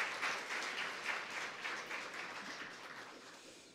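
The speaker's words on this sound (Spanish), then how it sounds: "Fuerte el aplauso para estas dos instituciones." Audience at a regional school oratory contest final in Darién province gives steady applause for two institutions, a soft, fairly distant patter of many hands that slowly fades toward the end.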